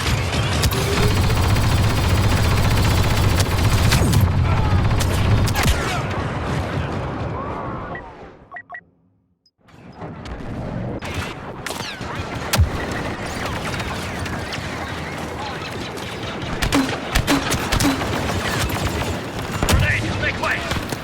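Dense gunfire and explosions from the Star Wars Battlefront II (2017) battle against clanker droids on Geonosis: loud, continuous volleys and booms that break off into near silence for about a second midway, then resume with sharp blasts.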